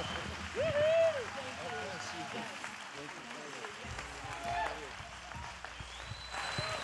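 A church congregation at a 9:30 am service applauds in a steady wash of clapping, while a voice rings out prominently over the crowd.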